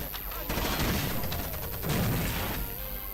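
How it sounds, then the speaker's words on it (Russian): Video game gunfire with a grenade being thrown, heard as a dense continuous rattle of shots and blasts that swell in two louder bursts, with talk mixed in over the top. "Я гранату бросил, берегись."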